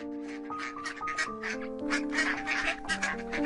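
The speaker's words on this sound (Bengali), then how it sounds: "সোনালী হাঁসের বাচ্চাগুলো হাঁটতে হাঁটতে একসময় সোনালীদের বাড়ির পাশের পুকুরে চলে আসে।" Cartoon ducklings quack in quick, repeated bursts over a sustained background melody.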